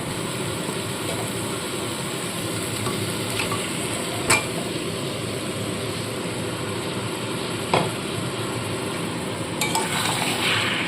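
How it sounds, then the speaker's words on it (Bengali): Fried chicken pieces are tossed into masala in a pan for a red chicken curry, giving a constant dense sizzle throughout with a couple of sharp, isolated utensil knocks. "তো এবার ভেজে রাখা চিকেনগুলো এর মধ্যে দিয়ে দেবো"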